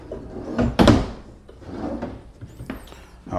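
A wooden kitchen drawer in a prefab home slides open and shut, giving a rubbing glide and a sharp thump close by, then softer sliding sounds.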